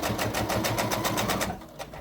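A sewing machine stitches close to the edge of fabric with a fast, steady rhythmic whirr, then slows slightly near the end.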